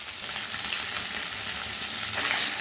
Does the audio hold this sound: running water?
no